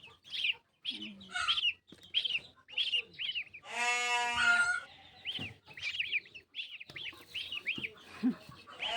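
Ducklings are handled and set down at a rural home, giving rapid, repeated high peeping calls in close bursts, with a louder, harsher call in the middle.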